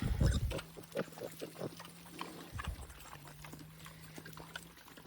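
Pigs eating at an off-grid homestead: wet chomping, slurping and soft grunts close by, loudest at the start, then a steady run of smaller chewing sounds over a low hum.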